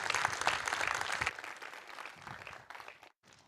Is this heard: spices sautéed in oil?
no